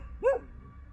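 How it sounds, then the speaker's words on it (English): A single short dog bark rings out in a quiet night campsite, moderately close, with faint low background noise and no growl evident. "Loud barking and even growling broke the silence of the night."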